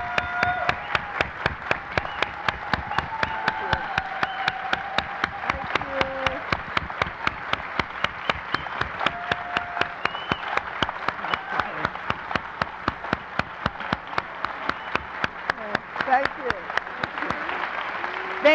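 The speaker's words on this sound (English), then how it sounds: "I just want us to give the most stirring applause for this goddess" An audience gives sustained applause honoring the dancer Judith Jamison at an evening event. The dense, rapid clapping runs steadily for the whole stretch, with scattered voices and cheers rising over it.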